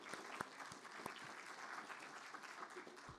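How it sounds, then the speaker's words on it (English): Audience applause for student panel members at an entrepreneurship conference, a steady patter of many hands clapping at moderate distance, heard alone throughout. "So give everybody a quick round of applause"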